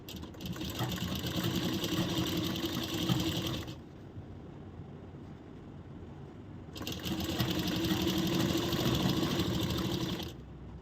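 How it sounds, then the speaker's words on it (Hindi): A sewing machine stitches blouse fabric in two long continuous runs, steady and close, with a short quieter pause between them. "अब हम इसकी सिलाई करेंगे।"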